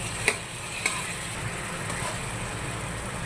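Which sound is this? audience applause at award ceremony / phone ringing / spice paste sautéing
spice paste sautéing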